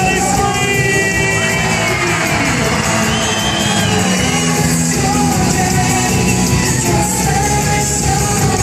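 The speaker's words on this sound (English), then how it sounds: "Everybody scream!" Children at a Nickelodeon Hotel party scream and shout together in a loud, sustained burst of crowd noise with overlapping high-pitched whoops and yells that run steadily throughout.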